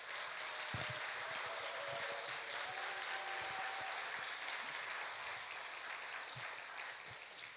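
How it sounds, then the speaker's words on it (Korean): A church congregation applauds the pastor after a sermon, steady dense clapping across the room, fairly even in level for several seconds with a faint voice briefly audible. "귀한 말씀 나눠주신 목사님께 다시 한번 박수 드리겠습니다."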